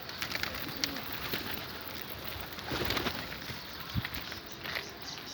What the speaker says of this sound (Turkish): Güzel kuş.